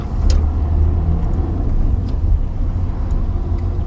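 A car drives steadily forward during a driving lesson, its engine and road rumble loud and continuous, with a few faint ticks on top and no talk.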